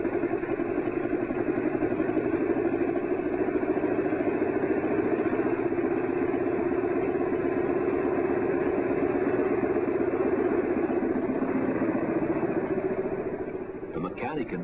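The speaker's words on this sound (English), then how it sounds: "Then they put the engine back together again and run it at high speed for many hours." Douglas DC-4 airliner piston engine running at high speed on a test: a steady, loud droning roar holding constant throughout, easing slightly at the very end.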